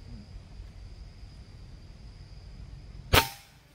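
A single sharp shot from a Hummer air rifle firing a 15-grain slug cracks out after a quiet stretch of faint background hum, close and loud, with a short ringing tail.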